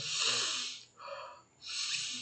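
Slow deliberate breathing, heard close up as long airy exhalations and inhalations in a controlled rhythm, about three breaths with no other sound.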